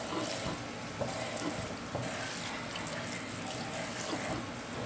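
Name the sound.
water draining from a sink after removing the plug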